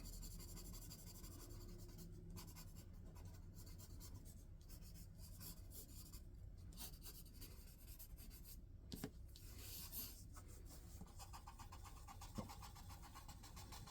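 Pencil scratching and rubbing across paper while sketching a comic cover, a quiet continuous scrape of strokes with short pauses, close and soft, with no talk.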